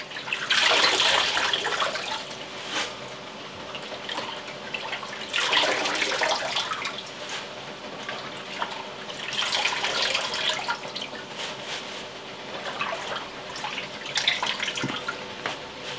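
Tap water runs into a sink as leafy greens are washed in a colander, a continuous rushing stream that swells and eases in several waves, close and moderately loud.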